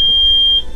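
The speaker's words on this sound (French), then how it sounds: "Vous allez entendre le bip, c'est le détecteur de fumée." A smoke detector installed in a camper van with a solar electrical system sounds one steady, loud, high-pitched electronic beep, close by and alone.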